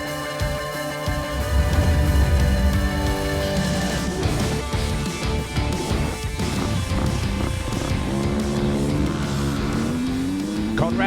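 KTM motocross bike from the Stebbings Cars Superstore KTM UK team lapping the Matterley Basin track at the MXGP of Great Britain, its engine revving up and down continuously as it rides, loud and close throughout.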